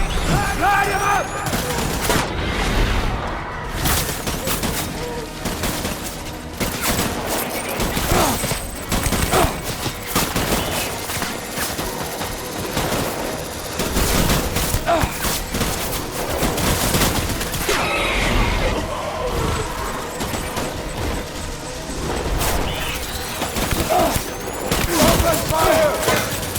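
Heavy gunfire in the video game Death Stranding, loud continuous volleys of rifle and machine-gun shots with booming impacts, over music and shouting voices.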